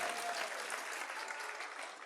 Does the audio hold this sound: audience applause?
yes